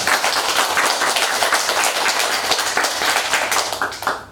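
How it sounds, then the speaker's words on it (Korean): A crowd at a political interview event with Huh Kyung-young, leader of the National Revolutionary Party, breaks into applause: dense, steady clapping that stays loud for about four seconds, then fades at the end. "박수"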